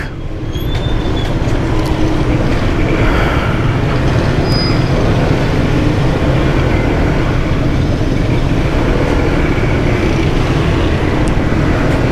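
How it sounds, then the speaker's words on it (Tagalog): Steady, dense roadway rumble of heavy traffic during a riders' parade in Capas, Tarlac, with cars and motorcycles crawling nearby; a continuous loud low drone holds through the whole stretch, with no voices. "Traffic. Sobra traffic."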